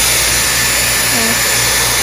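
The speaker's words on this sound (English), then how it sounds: "So the first piece is the pre-drying styler. Just a fancy hair dryer." Steady broadband whoosh of a Dyson Supersonic hair dryer blowing continuously, loud and close, with no pauses.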